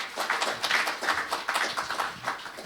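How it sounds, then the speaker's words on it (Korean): Audience applause at a Korean environmental leaders' forum, a moderate patter of clapping hands from a small room, steady and close, with no voices over it. "박수 부탁드립니다."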